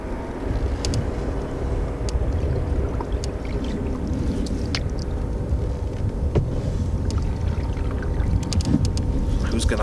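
A canoe is paddled across windy water. Wind roars steadily throughout with soft water sloshing and occasional paddle splashes and knocks, all close by.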